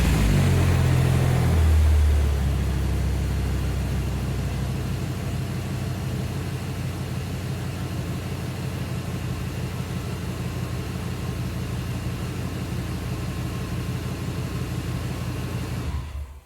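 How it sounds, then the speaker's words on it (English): A 2003 Dodge 3500 truck with a V10 engine cranks and catches with a loud, deep burst. It then settles into a steady, rumbling idle close by, with no talking. "So we're going to start the truck real quick."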